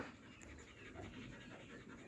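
A German Shepherd dog pants steadily and close, quick rhythmic breaths in a rural village setting, with no talk over it.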